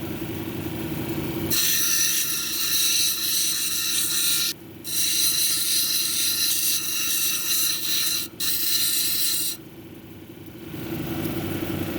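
A dumortierite cabochon dome being ground on a lapidary wheel, with a loud, steady whirring grind that breaks off briefly twice before stopping, over a constant motor hum.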